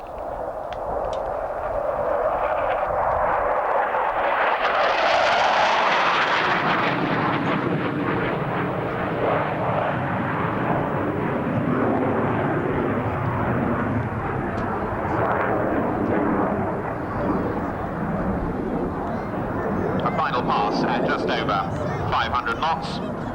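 Patrouille de France jets fly at an RAF Abingdon airshow, a loud roaring pass that swells and sweeps overhead, then continues as a sustained rumbling drone with distant crowd noise.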